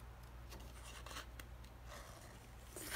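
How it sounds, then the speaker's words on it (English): Scissors snip the corners off a sheet of paper while making a library card pocket, a faint, steady run of small cutting and rustling sounds, close by with no talking. "I'm gonna cut the corners here."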